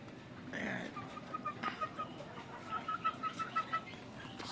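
Young hens about seven months old, kept for a poultry breeding project, cluck in a short rhythmic series of soft calls, close by over a steady farmyard background hum.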